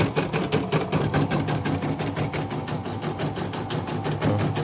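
A heavy embroidery machine, unit M25, running after repair with a fast, even, steady stitching clatter, loud and close with no speech.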